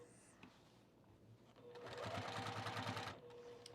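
A home sewing machine runs a short burst of stitching on fabric for overalls, a quick rapid whirring chatter lasting just over a second, fairly soft and close, with a brief voice before it.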